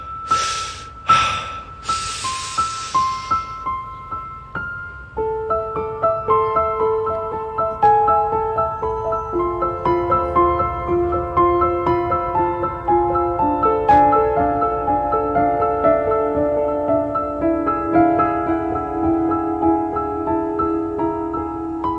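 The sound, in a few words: piano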